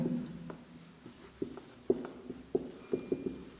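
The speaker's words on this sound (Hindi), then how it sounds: "तो चलिए हम यहाँ पे 2 पॉइंट लिखते हैं।" Marker or chalk writing notes on a board during a physics lesson, a run of short scratchy strokes and taps arriving in irregular bursts, close and moderately loud with no talking over them.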